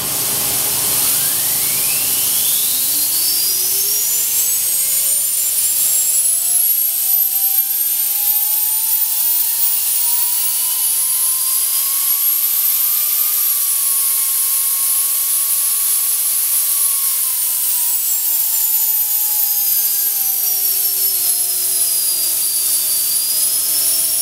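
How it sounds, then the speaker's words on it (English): A Rogue VX miniature turbine, about three inches long, spun up on compressed air blown through its back, giving a loud steady rushing whine whose pitch sweeps sharply upward, holds high, then eases slightly, with no talking. "This was a final production test of the Rogue VX turbine."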